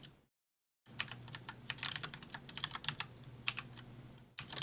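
Rapid keystrokes on a computer keyboard, close and fairly quiet, in irregular bursts after a brief silence near the start.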